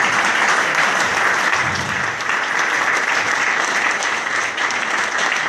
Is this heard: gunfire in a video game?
no